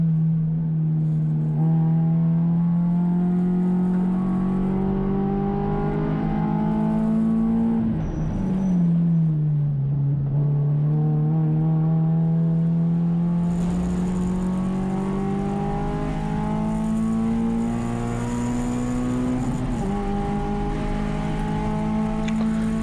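A race car runs Portland International Raceway in a Hoosier Super Tour session, its engine droning loud and close as it climbs in pitch, dips briefly while lifting for a corner, then accelerates again steadily.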